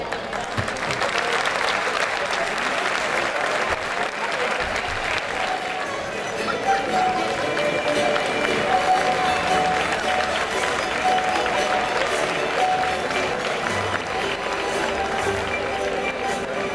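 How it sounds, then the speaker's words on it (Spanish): A large audience at a folk music performance applauds in steady, dense clapping that carries on unbroken for over fifteen seconds, loud and close with a full crowd sound. "Un fuerte aplauso."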